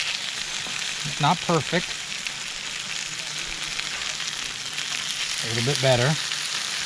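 Bacon cheeseburgers sizzle loudly and steadily on a griddle in an RV kitchen, a constant frying hiss while the patties are flipped, with someone speaking briefly over the cooking twice.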